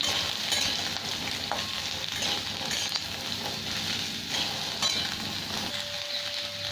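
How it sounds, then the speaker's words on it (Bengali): Pointed gourd (potol) frying in a pan, a continuous dense sizzle with occasional stirring scrapes, loud and close throughout. "এখানে আমার 250 পটল আছে, এটাকে ভালো করে এবার ভেজে নেব"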